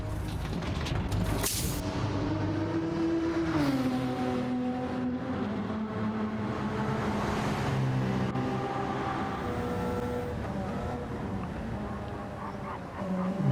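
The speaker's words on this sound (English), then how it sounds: "Here we go with Matt just having come out of the pit lane" A Porsche race car leaves the pit lane at wet Spa in a racing video game, its engine note rising and shifting through gears with a sustained droning tone, steady and fairly close throughout.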